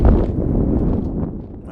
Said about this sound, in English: the wind has really picked up